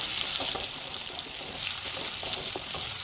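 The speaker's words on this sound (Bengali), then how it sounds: "পেঁয়াজটা তেলের সাথে হালকা একটু ভেজে নিয়েছি" Chopped onion fries in hot oil with panch phoron, giving a loud, dense, continuous sizzle close by, with no voices.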